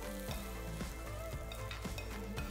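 Broccoli and pasta sizzle steadily in a frying pan while being stirred, with a constant hiss and periodic scraping stirs, with no talk.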